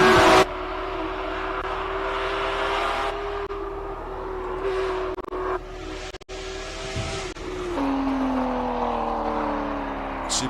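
A race car charging up the Simola Hillclimb at a King of the Hill event, loud and sustained engine tone that rises and falls through gear changes, with a brief cut near the end before the engine pulls again.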